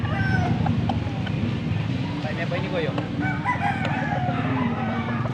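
Young roosters (stags) crowing and clucking at a gamefowl farm in Pampanga, several birds calling over steady background noise with faint talk nearby.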